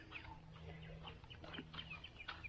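Soft, scattered clucking from a few backyard chickens at a moderate distance, with low steady background noise and no speech.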